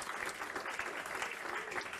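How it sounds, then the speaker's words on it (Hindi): A crowd of students in a classroom lecture claps steadily for two seconds, a dense continuous patter of many hands at moderate distance with no voices over it. "बजाओ ताली।"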